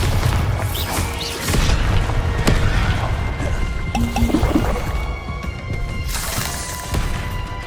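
A Bombarda blasting spell in Hogwarts Legacy goes off as a loud booming explosion with crashing debris. Further rumbling bursts and clattering follow over several seconds.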